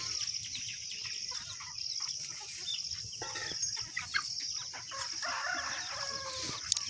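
Farmyard chickens cluck and call steadily over a busy rural background, with a few brief louder calls near the end and no talking.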